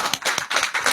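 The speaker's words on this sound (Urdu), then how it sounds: "بھرپور تالیوں میں شیر افضل مروت صاحب" An audience at a political speech claps loudly, with several rhythmic bursts of hand claps swelling and fading in quick succession and no speech over them.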